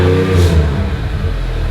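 Engine of a Toyota Hilux drift truck with a Miata engine swap, a light flywheel fitted, rumbling loudly through its exhaust at close range. A steady low drone fills the whole stretch, with a slight rise early on.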